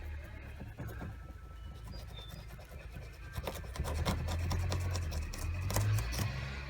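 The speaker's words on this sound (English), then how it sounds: "I'm just literally using a sawing motion, cutting off the old strap, leaving the patch in place." A Stanley knife saws back and forth through an old strap on an inflatable RIB boat, giving a steady close rasping scrape with repeated strokes that grow louder in the second half.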